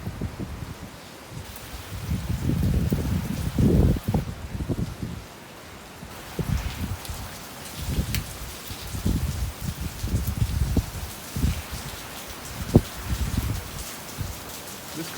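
Heavy thunderstorm rain under a severe warning for 60 mph wind gusts, with rain pouring steadily and loud gusts surging and fading in waves, close to the microphone.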